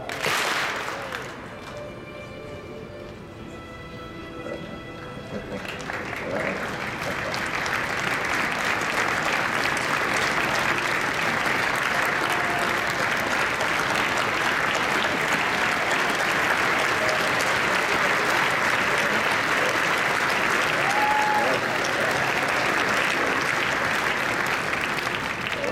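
Sustained applause from a large audience at a convention, starting with a few scattered claps and then swelling into loud, dense clapping that holds steady until the end.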